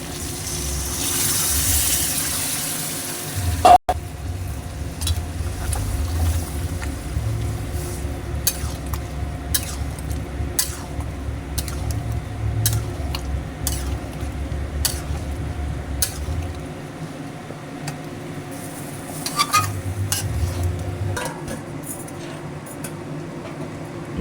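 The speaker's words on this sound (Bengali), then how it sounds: "নেড়ে দিচ্ছি।" A spoon stirs fried, boiled lentils (dal) in a cooking pan, giving scraping, clinking strokes over a steady low sizzle and a continuous background rumble, with no voices.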